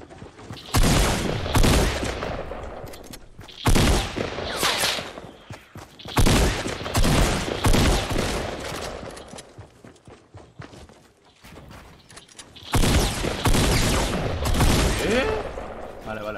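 Bursts of Fortnite gunfire with loud shots and clattering effects, coming in several clusters over a steady game soundscape.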